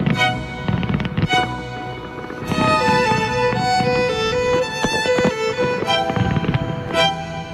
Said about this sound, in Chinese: 烟花声在无声的夜晚显得特别响亮